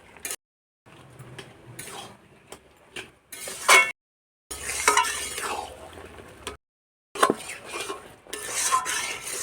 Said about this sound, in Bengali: এলা এই যে কচুর জলটা শুকো অবধি মোর ভাজিতে থাকিম।